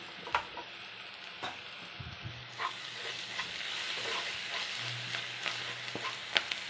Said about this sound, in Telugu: ఇవి వేగిపోయినాయి పర్ఫెక్ట్గా